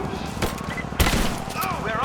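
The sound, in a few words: gunfire in a video game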